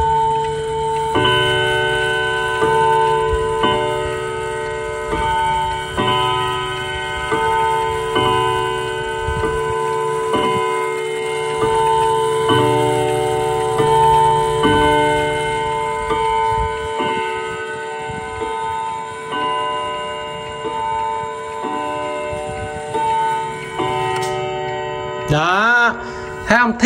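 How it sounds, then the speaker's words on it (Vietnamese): A Japanese domestic mechanical clock with a half-hour chime ticks steadily and rings a long series of resonant bell-like strikes that overlap and sustain. A brief clatter sounds near the end. "Rồi cái này cứ mỗi 30 phút điểm chuông một lần, với lại là giờ chẵn sẽ điểm chuông một lần thì em sẽ cho anh em nghe thử luôn"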